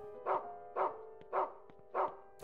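A dog in the Rule of Rose video game barks four times at an even, steady pace, each bark clear and full with short gaps between, no talking.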